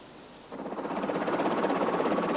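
Water spilling over the crest of a 37-metre-high, 70-metre-wide hydroelectric dam into the riverbed, a broad steady roar that swells in suddenly after a quiet start and then holds loud and continuous.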